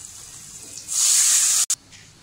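Thoothuvalai rasam is poured into hot tempering oil with garlic and asafoetida, setting off a sudden loud sizzling hiss that swells for about a second, then cuts out briefly and fades to a softer crackle.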